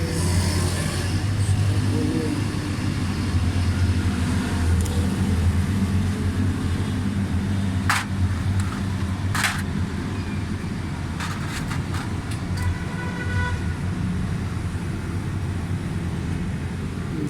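A 2008 Suzuki Cultus EFI runs with a pickup and fuel-delivery fault, giving a steady, loud engine drone with a low hum that continues unchanged throughout, with no talking.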